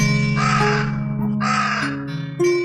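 A crow caws loudly and harshly several times in quick succession, close by, with no talking.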